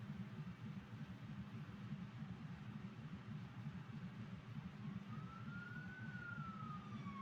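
An emergency siren sound effect, a faint wailing tone rising and falling over a low steady rumble, alone with no voices.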